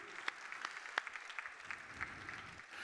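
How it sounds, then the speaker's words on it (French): Faint applause from an audience at the opening of a night-of-the-stars gala event, scattered distinct claps over a soft wash that thins out toward the end. "un petit applaudissement ou même des gros applaudissements"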